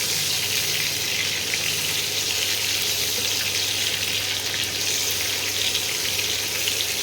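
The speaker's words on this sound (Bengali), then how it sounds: "ডিমগুলোকে একটু হালকা করে ভেজে নেব। সামান্য একটু ঘি দিয়ে ভাজলে গন্ধটা খুব সুন্দর হয়" Duck eggs frying in oil with a little ghee, a steady, close hiss and crackle of sizzling fat that holds evenly throughout with no voices.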